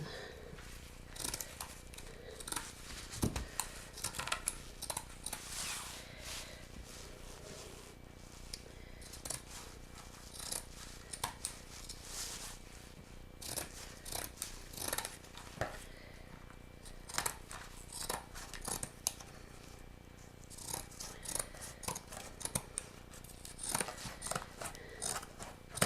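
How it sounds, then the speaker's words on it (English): Scissors snip steadily around the outside edges of a sheet of cardboard, with repeated short, crisp cuts and faint crinkling close by in a quiet room. "I'm just going to take my scissors and trim around the outside edges of the cardboard"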